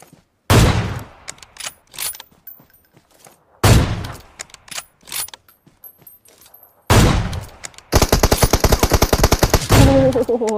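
Gunfire in PUBG: several separate loud single shots with echoing tails, then a long rapid automatic burst near the end, sharp and close with little else around.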